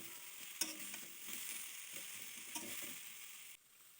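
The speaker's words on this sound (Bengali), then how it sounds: "এখন নাড়াচাড়া করে নিতেছি, মিশিয়ে নিতেছি ভালো করে।" Ground cumin, coriander and chili powder stirred in a pan, a soft, quiet hiss with a couple of light scrapes of the spoon that stops abruptly near the end.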